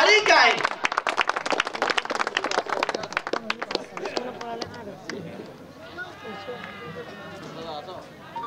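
Outdoor crowd at a cricket post-match presentation clapping for the man of the match, sharp dense claps that thin out and fade while an announcer keeps talking over them.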